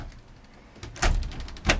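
A wardrobe door in a 2004 Itasca Sunrise 34-foot Class A motorhome opens with two short knocks and slides close by in a quiet interior, the second thud arriving about half a second after the first.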